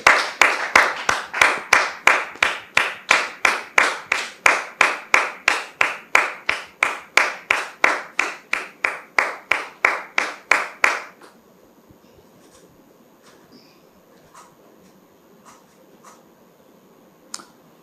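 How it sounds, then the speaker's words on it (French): An audience on a talk show claps in a slow, steady unison rhythm to welcome a guest's entrance, loud and even for about eleven seconds before stopping abruptly, leaving a few scattered faint claps afterward. "Sous vos applaudissements, s'il vous plaît."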